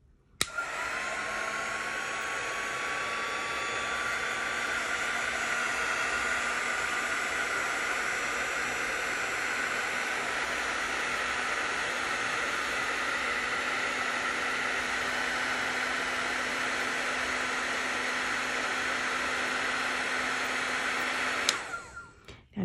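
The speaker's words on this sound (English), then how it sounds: "and then I'm going to start my heat gun." A heat gun blows hot air onto Shrinky Dink plastic with a loud, steady whooshing rush. It runs unbroken for about twenty seconds and then cuts off abruptly, with no talking.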